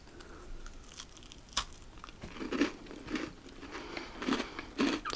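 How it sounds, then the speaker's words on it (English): Crunchy chocolate walnut biscuit bitten and chewed up close, with a sharp crisp snap followed by several irregular crunching chews, fairly quiet and without talk. "It's got a good crunch to it."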